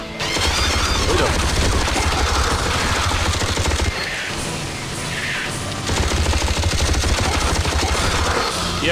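Gunfire in the game Aliens vs. Predator 2 pours out as dense, continuous automatic fire and booming blasts, loud and close, easing briefly before resuming at full intensity.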